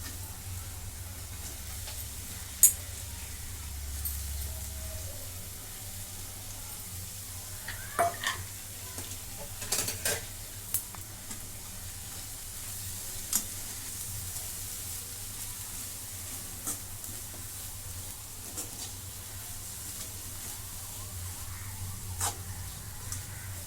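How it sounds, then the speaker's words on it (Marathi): Sprouted moth beans frying in a pan with onion, garlic and spice masala, a low continuous sizzle and hiss broken by occasional scrapes and taps as they are stirred. "आता ही मटकी टाकून घेते"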